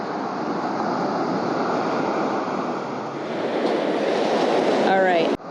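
Ocean waves and wind roar steadily at sea from a fishing boat, a loud continuous rush with gusty microphone buffeting, ending in a sharp knock.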